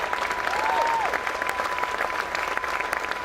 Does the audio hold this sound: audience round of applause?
yes